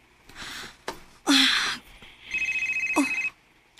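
A telephone rings once with a bright, warbling electronic trill lasting about a second, set among gasps and rustling from a nearby person in a quiet night room.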